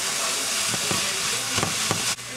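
Chai kwe filling of vegetables sizzles steadily in a pan with a little added water, while a utensil scrapes and stirs it in a few quick, close strokes.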